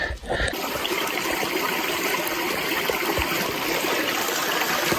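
Water pouring steadily out of an artesian spring, a close, continuous rushing trickle that starts after a brief rustle and holds at an even level.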